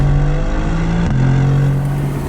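A Mercedes AMG GTR with a 4-litre twin-turbo V8 drives close by, a loud sustained engine drone that shifts pitch briefly mid-way as it changes load, with no talk over it.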